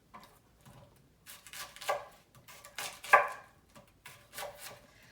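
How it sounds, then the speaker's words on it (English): Knife cutting a fennel bulb into wedges on a chopping board, a handful of separate thuds and crunchy cuts spaced irregularly, close and fairly quiet with no talking. "we're just going to cut these into wedges"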